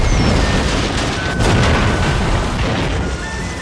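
Naval battle in the Total War: Shogun 2 video game, with steam-powered ironclad warships and torpedoes. A dense, continuous wall of loud booming explosions and cannon fire rumbles throughout, with no voices heard.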